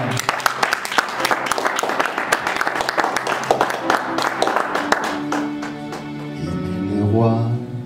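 A church congregation claps loudly and rhythmically in worship, dense applause mixed with voices and music that eases into sustained sung tones at the end.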